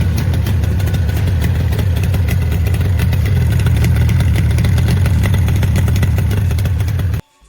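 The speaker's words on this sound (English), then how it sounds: "For collectors or enthusiasts seeking a highly desirable vintage Japanese two-stroke, this Yamaha represents a standout opportunity." Vintage Japanese Yamaha two-stroke motorcycle engine running steadily at a fast idle, close and loud, with a buzzy, slightly clattery drone that holds for several seconds before cutting off abruptly.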